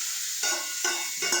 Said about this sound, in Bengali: তড়কার জন্য মা এখানে দিয়েছে পেঁয়াজ, রসুন, আদা সব ফ্রাই করছে।